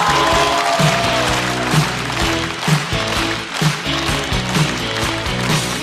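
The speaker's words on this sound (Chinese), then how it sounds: "掌声欢迎邱瑞" A studio audience at a stand-up comedy show applauds steadily as a comedian is welcomed onstage, a dense continuous clatter mixed with loud music carrying a regular thumping beat throughout.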